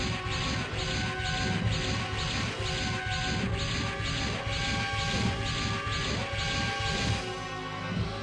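Repeated loud crashing impacts in a steady pounding rhythm as the Gilgilgan robot is smashed up in a Super Robot Wars game, with metallic clangs over a continuous musical backdrop that drops away near the end.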